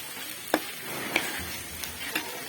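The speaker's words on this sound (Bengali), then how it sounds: "আবার আমি এটিকে ঢাকনা দিয়ে ভেজে নেব" Snake gourd with grated coconut fries in a pan with a soft, steady sizzle, punctuated by a few sharp clicks of a spatula stirring against the metal.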